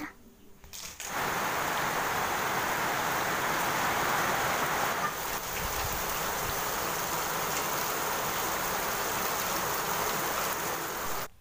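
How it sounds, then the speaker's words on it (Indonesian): Heavy rain pours as a steady, dense hiss, with gusty wind blowing through it and no voices. "sudah hujan lebat banget dan hujannya kali ini sedikit campur angin dan campur petir"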